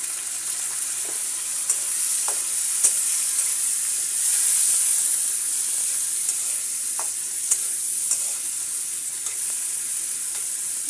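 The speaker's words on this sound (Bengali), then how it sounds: "এবার আমি এখানে কেটে বেছে রাখা চিংড়ি মাছগুলো দিয়ে দেবো" Prawns frying with onion and green chilli in a hot pan give a steady close sizzle and hiss, with occasional light clicks of a spatula stirring throughout.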